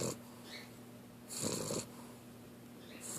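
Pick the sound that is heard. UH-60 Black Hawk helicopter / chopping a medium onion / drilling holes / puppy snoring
puppy snoring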